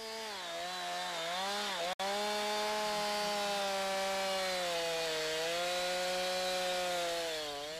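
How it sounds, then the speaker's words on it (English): A chainsaw drones continuously as its bar is pressed into a tree trunk during felling, its engine pitch wavering slightly under load, loud and close, with one sharp click partway through. "Press the bar into the tree."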